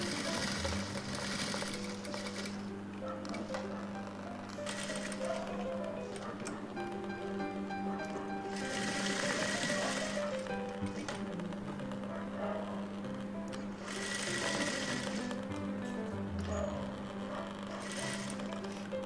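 An electric sewing machine stitches a blouse seam, a steady motor hum with rapid needle ticking that runs continuously and swells in faster bursts several times, loud and close, without speech.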